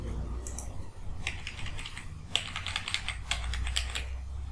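Keys clatter on a computer keyboard as a number is entered, a close run of quick, uneven clicks in short bursts over a low steady background hum.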